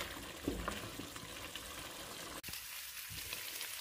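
Egg halwa fries in a pan while being stirred continuously as its moisture cooks off, giving a steady close sizzle with soft scraping bumps and a brief dip partway through.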